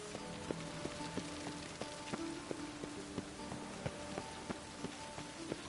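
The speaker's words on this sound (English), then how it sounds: "The rain will cleanse the city streets of filth." Steady rain falls in The Witcher 3: Wild Hunt, a dense, even hiss of drops on city streets with scattered tapping spatters, faint and continuous throughout.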